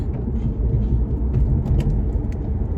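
A dump truck drives ahead on Preston Road, a Texas road running from Celina toward Dallas, as a steady, close, low road rumble with engine drone and no talk.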